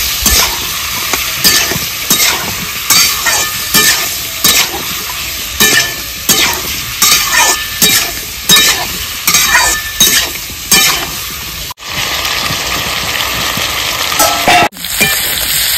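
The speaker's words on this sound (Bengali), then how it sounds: "এবার সুন্দর করে নেড়ে চেড়ে ভেজে নেব।" Kohlrabi stir-fried with salt, turmeric and slit green chillies, a loud continuous sizzle broken by regular scraping stir strokes roughly every second.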